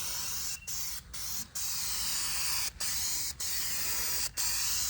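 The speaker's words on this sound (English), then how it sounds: "You see how I'm spraying it just right here on the edge" Loud, close hiss of a spray paint can painting the edge of a Pontiac 350 engine in several bursts, cut by short pauses between sprays.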